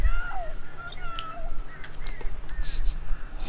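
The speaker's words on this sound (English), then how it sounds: "I'm trying to get the birds away" Crows caw repeatedly in Alan Wake Remastered, several harsh calls spread across the scene over a low ambient rumble, with a faint catlike cry among them.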